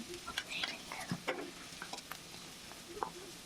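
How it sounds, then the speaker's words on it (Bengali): Onions fried in a wok with salt and green chilli give a faint, quiet sizzle under sharp, scattered scraping and clinking from stirring, with soft whispery sounds throughout. "লবণ দিয়ে ভালোভাবে একটু নাড়াচাড়া দিয়ে পেঁয়াজটা ভেজে নিচ্ছি"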